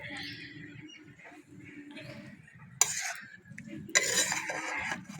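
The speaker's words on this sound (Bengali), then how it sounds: "ভালো করে মিশিয়ে নিচ্ছি" A spoon stirs lentil dal in a pot, making soft scraping and clinking sounds up close, with a couple of sharper knocks against the pot.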